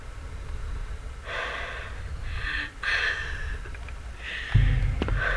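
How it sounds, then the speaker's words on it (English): A creature in SCP: Containment Breach breathes in several heavy, airy exhales with short gaps between them over a quiet, low ambient hum, then a dull low thud near the end. "I can hear breathing."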